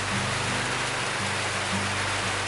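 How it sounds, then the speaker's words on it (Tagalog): Rain falls steadily during the first rain of 2020, a dense, even hiss that fills the whole stretch, with a low hum running underneath and no voices. "Sarap sanang maligo sa ulan."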